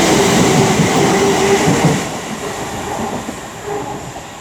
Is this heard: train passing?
yes